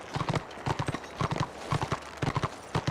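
Horse hooves in a video game clip-clop in quick, steady groups of beats, moderately close and alone with no talking over them.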